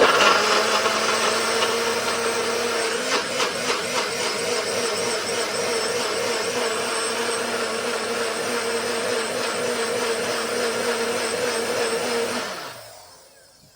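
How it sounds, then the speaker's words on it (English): A kitchen blender whirs at high speed through a carrot dumpling mixture, a loud, steady motor roar that runs for about twelve seconds, then spins down and stops. "blend this for a few seconds."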